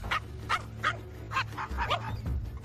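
A dog-aggressive dog barks about six times in a steady rhythm, fairly close, over a low background hum.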